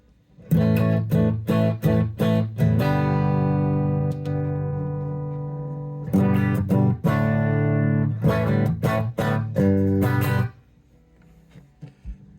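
Distorted electric guitar, a vintage 1991 PRS Custom 24 through a small Cube 30 amp, plays loud chords in bursts, one chord ringing out and sustaining in the middle before more choppy strums, then fading.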